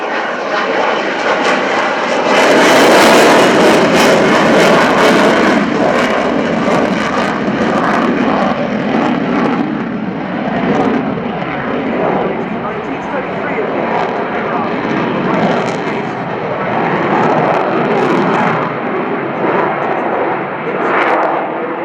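A Swiss F/A-18 Hornet jet roars through a slow pass at an airshow, its loud engine rumble swelling as it accelerates, continuous and heavy, with a commentator talking over it.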